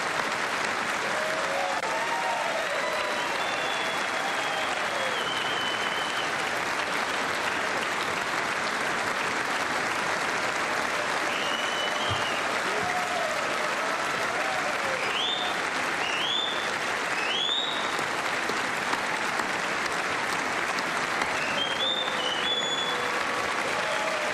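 Sustained audience applause in a large hall during a State of the Union Medal of Honor presentation, a dense, steady wash of clapping lasting throughout, with faint voices and cheers rising within it.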